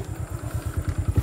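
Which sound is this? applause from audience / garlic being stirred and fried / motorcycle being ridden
motorcycle being ridden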